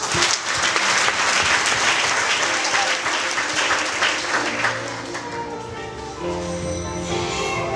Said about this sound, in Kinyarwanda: namumera amashyi.